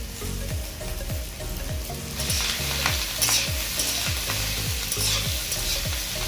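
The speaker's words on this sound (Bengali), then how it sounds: "এবারে আমরা এই ফুলকপির ডাঁটা এবং পাতা সমেত এটা দিয়ে দিই" Cauliflower stalks and leaves stir-fried in a pan alongside mixed vegetables, with a steady sizzle under repeated scraping strokes of a spatula and a louder burst of frying partway through; no talking.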